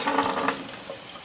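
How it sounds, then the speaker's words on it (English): Water poured into a stewed chicken sauce while cooking, a short, close gushing splash that fades out within about a second. "Now we're going to add some water."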